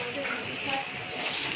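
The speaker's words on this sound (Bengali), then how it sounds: "আমি এখন এখানে আলু ভাজছি" Potatoes fry in a pan with a soft, continuous sizzle at low volume, and faint voices are in the background.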